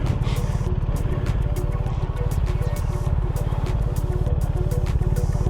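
BMW R1300GS motorcycle engine idling close by, a steady low rumble with fast regular firing pulses that holds evenly throughout, with no one speaking.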